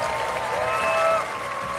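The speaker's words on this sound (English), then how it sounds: "Please give him a big round of applause." Audience applause at a Gran Turismo World Series watch party, a steady wash of clapping with some crowd noise and tonal sound mixed in, swelling slightly then easing off.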